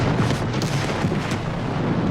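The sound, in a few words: flammable vapor cloud explosion at a chemical plant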